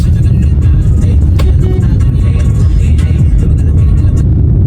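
A car drives through heavy evening traffic with a steady, loud low engine and road rumble throughout, a few faint clicks on top, no talking.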